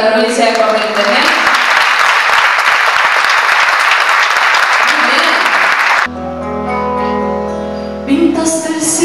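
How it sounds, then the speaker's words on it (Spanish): An audience claps loudly for the province of Corrientes, a dense, steady burst of applause lasting about six seconds before it cuts abruptly to music. "Fuerte el aplauso para la provincia de Corrientes"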